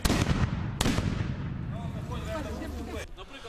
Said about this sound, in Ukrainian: Ці хлопки і постріли насправді або холості, або просто створюють ефект шуму.